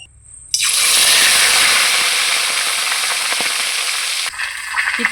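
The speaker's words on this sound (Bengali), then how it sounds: "এখন মাছের মাথাটাকে আমি ভেজে নেব।" A seasoned rohu fish head drops into hot mustard oil, setting off a sudden loud, close sizzle that holds steady for several seconds before easing to a quieter crackle.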